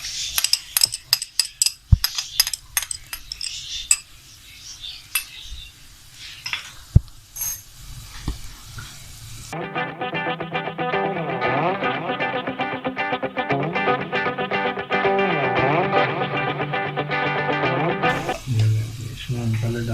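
Garlic dropped into hot oil for restaurant-style chicken chow mein: a run of scattered clinks and utensil knocks, then a loud, steady sizzle that holds for several seconds and fades toward the end.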